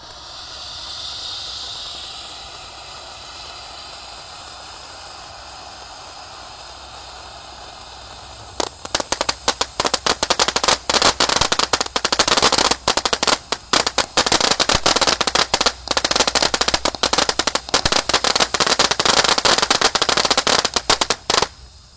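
Flower Power fountain firework with colourful balls: a soft hiss at first, then from about nine seconds a dense, loud, continuous crackling and popping that keeps going to the end, with no voices.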